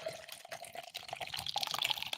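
Raspberry Twisted Tea pours slowly from a can, a soft, continuous trickle and splash of liquid heard close by with no talking.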